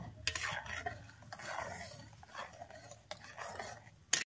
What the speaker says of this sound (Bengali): আমি গ্রেভিটা দিয়ে এবারে ভালোভাবে এইটাকে কিন্তু কষতে থাকবো।